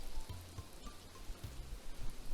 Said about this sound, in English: Get a nice little rain effect.